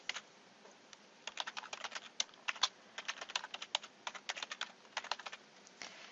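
Keys clatter on a computer keyboard as an email address is typed into a NetSuite login, in quick irregular bursts of close, crisp taps with short pauses.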